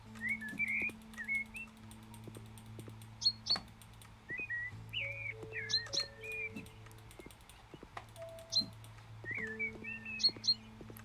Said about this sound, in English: I feel it sounded like blackbirds.